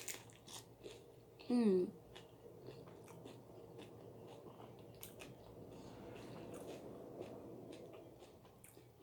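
Crispy fried taquitos dorados are bitten and crunched up close, sounding in scattered crisp bursts. A hum of pleasure and brief speech break in now and then.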